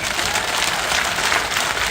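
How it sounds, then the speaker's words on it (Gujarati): Steady, dense applause from a large crowd at a community gathering, many hands clapping at once with no pauses throughout. "2 હાથથી તાળીઓ પાડીને કહો મને."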